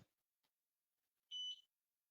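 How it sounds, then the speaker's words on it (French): An xTool F1 laser engraver gives a single short, high electronic beep on connecting, clear and brief against near silence. "on entend le bip comme quoi elle vient de se connecter"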